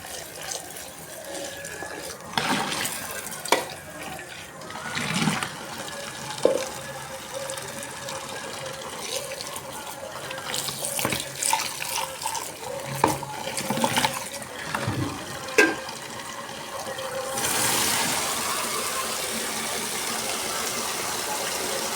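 Water runs and splashes into a tub with a steady rushing flow, punctuated by knocks and clatters, then a louder continuous gush near the end.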